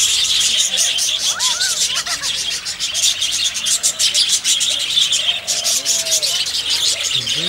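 Small birds chirp and tweet repeatedly in Parc du Thabor, a city park in Rennes, a steady busy chorus of high calls at moderate distance over faint background murmur.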